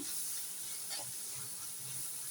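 Fish in a coconut mixture frying in a pan, a steady soft sizzle and hiss with a few faint stirring taps, close and continuous.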